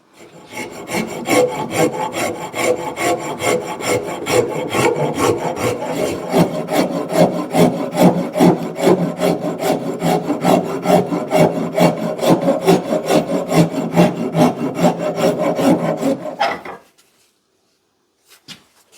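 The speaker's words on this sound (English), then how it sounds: "just take this round, half round rasp, and just hollow it out from that line down this way" A half-round rasp hollows out a wooden axe handle with steady, close, rhythmic rasping strokes that continue for about sixteen seconds, then stop abruptly and leave near silence.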